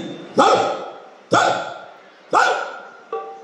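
A person imitates a dog with four sharp, barking yelps at roughly one-second intervals, close and loud.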